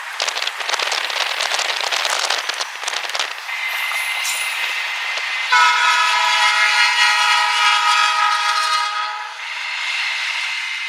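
An SD40-2 and a -9 diesel locomotive, running light with no train, rumble past nearby with rhythmic clatter, then a loud multi-tone horn blares for several seconds before the engines continue.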